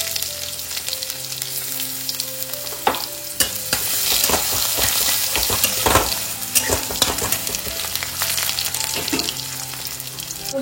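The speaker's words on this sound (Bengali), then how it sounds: "রসুনটা একটুখানি ভাজা ভাজা হয়ে গেলে দিয়ে দেবো" Garlic cloves fry in hot oil in a pan with dried red chilli, five-spice seeds and bay leaf, giving a steady loud sizzle with repeated scraping and clinking stirs throughout.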